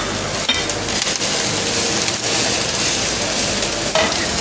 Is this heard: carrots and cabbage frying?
yes